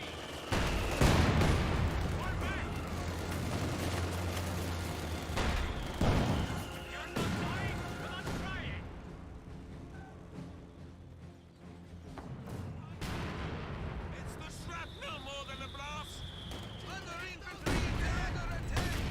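Rocket artillery barrages and bursts of gunfire from a Company of Heroes 2 battle boom and crackle in dense, overlapping volleys throughout, mixed with game effects while a commentator talks over the action.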